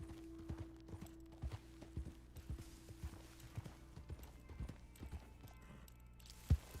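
Horse hooves clip-clopping while riding in Red Dead Online, a steady quiet rhythmic gait of soft thuds continuing throughout, fairly faint with a low background hum.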